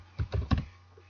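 Close, quiet computer keyboard typing of code in Visual Studio, a quick burst of three or four key taps followed by a short pause.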